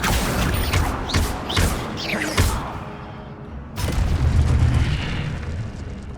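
Incendio fire spell blasts in Hogwarts Legacy, loud booming bursts of fire and impact that repeat in quick succession, dense and roaring, with a brief drop before another heavy rumbling surge.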